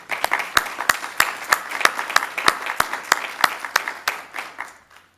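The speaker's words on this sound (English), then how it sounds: "give yourselves a round of applause" Applause from an audience at a community beautification awards ceremony, steady scattered clapping with sharp individual claps for about five seconds, fading out at the end.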